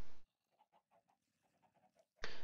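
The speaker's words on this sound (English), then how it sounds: "looks like we have default chickens" Default Minecraft chickens make a run of soft, evenly spaced clucks, set between two short, loud bursts of other game sound.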